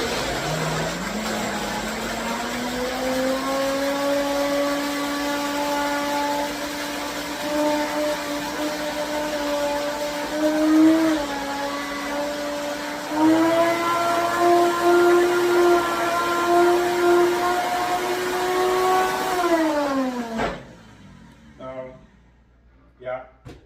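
A kitchen blender grinds groundnuts for groundnut soup, its steady high motor whine running loud and close for about twenty seconds, rising in pitch before cutting off, followed by a few faint clatters.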